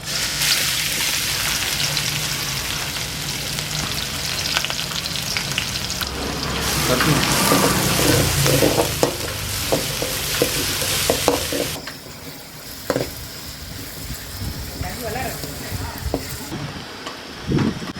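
Chopped onions and green chilies sizzle and crackle in hot oil, with a steady frying hiss and occasional stirring scrapes, close and fairly loud throughout.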